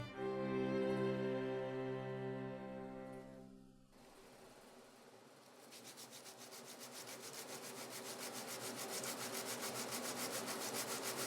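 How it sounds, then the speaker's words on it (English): Copper on a crucible-steel knife fitting is polished and its edge lightly bevelled, a steady close rubbing and grinding that starts out tonal and builds into a rough, continuous rasp with no talk. "I also polish up the copper and slightly bevel the edge"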